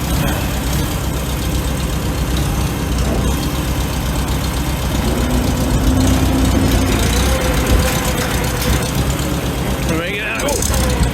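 A 1948 Farmall Super A tractor engine runs steadily and close by, a rough low rumble that rises slightly as throttle is added, with a person talking over it.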